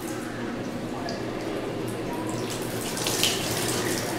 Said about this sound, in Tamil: இப்படி ஒன்று மேலே ஒன்று போட்டு தேய்ச்சி வாஷ் பண்ணி